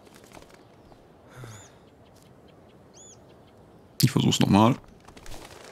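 A bird in the video game Life is Strange: Before the Storm gives two brief, faint high chirps over quiet game ambience, followed by a short burst of speech.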